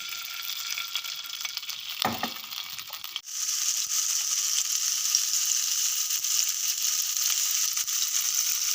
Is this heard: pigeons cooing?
no